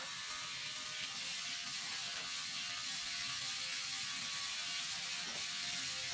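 A SUSLASER dermaroller skin treatment machine runs after being started, producing a faint, steady mechanical whir with a fine ratcheting texture throughout.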